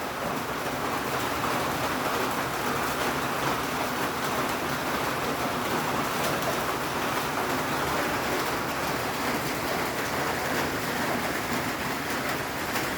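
Heavy rain pouring steadily, a dense, unbroken wash of noise at constant loudness with no voices.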